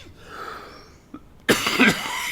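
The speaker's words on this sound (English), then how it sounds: "still have a little cough here" A single short cough comes at close range, loud and abrupt, after quiet room tone and a faint throat sound.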